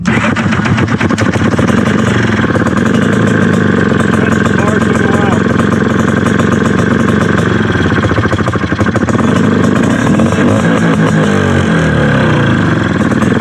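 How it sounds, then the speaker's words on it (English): An off-road vehicle's engine idles and revs on the hot sand of Sand Hollow during a rally, a loud, close, continuous mechanical drone with pulsing revs, under voices. "Turn your idle up. Gotta give it a little fuel."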